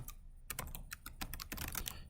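Fingers type on a computer keyboard in a quick, irregular burst of close, crisp key clicks that start after a brief pause and continue steadily to the end.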